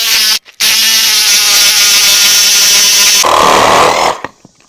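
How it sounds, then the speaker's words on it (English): A reciprocating saw cuts a notch into a wooden deck post with a loud, continuous buzzing rasp, stopping briefly near the start and then running on before a rougher final bite through the wood and a trailing stop. "Take our reciprocating saw, we're going to slide it in between the two and just cut it out"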